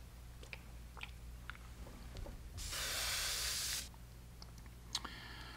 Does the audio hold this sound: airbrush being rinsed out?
yes